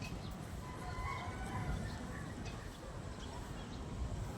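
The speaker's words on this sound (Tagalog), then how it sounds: "May mga huni ng ibon." Birds call faintly and sporadically outdoors near a rooftop garden of potted dragon fruit, their chirps half buried under strong, steady wind.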